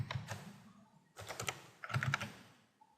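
A zip code is typed on a computer keyboard in three quick bursts of close, crisp keystrokes separated by short pauses, with no voices.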